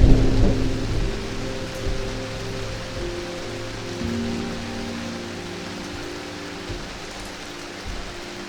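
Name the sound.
rain and thunder outside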